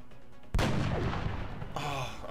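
In the video game X-Com, a reaction shot fires as one sudden, sharp gunshot burst after a brief quiet lead-in. A ringing, rumbling tail decays behind it, then a second, fainter crack of impact follows.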